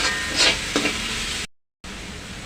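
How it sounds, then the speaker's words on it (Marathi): Vegetables stir-fried over a high gas flame for veg Schezwan fried rice, a steady close sizzle with scraping stirs, cut by a brief silence before the frying resumes. "गॅस फास्टच ठेवायचा आहे भाज्या तीन ते चार मिनिट परतून घेते"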